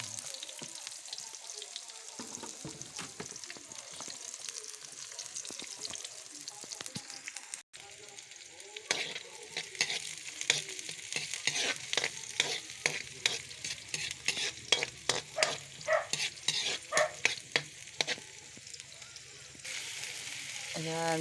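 Onion fries in a pan for squid adobo, starting as a quiet sizzle and turning to loud, rapid stirring scrapes and clatter near the end, with a voice speaking at times.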